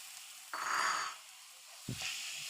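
Prawns sauté in a pan, a quiet sizzle swelling briefly then fading, followed by a soft stirring knock and a renewed faint hiss.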